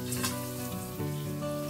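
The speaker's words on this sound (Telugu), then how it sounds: "వీటిని మనం నూనెలో వేయించేసుకుందాం. నూనె బాగా కాగనివ్వాలి." Potato papads fry in hot oil, a steady soft crackling sizzle that runs throughout over a sustained tonal background.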